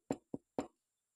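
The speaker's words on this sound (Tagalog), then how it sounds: "may kumatok ng mahina" Three soft, quick knocks land on a bedroom door in an uneven rhythm, clear and close against silence.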